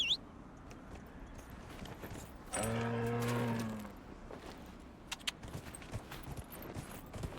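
Horse hooves in the video game Dragon Age: Inquisition, a faint scattering of soft clip-clop steps, with a brief tonal animal call partway through over a low ambient background.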